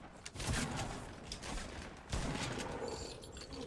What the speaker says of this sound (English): I shot one AR bullet at this guy and he died